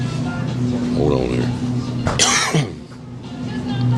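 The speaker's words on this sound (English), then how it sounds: "you got a cough, take a gulp of water, whatever" A man's cough bursts out around the middle, loud and close, during a casual live broadcast from a Food City store, with steady background hum and store noise around it.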